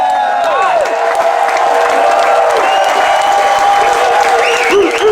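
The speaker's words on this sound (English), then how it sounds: "I want you to stand up and give Neve a round of applause." A standing audience bursts into loud, sustained applause and cheering, dense clapping with whoops and shouts rising over it, crowd voices mingled throughout.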